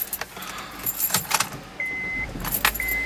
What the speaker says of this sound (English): Let me get in the car and I'll drive around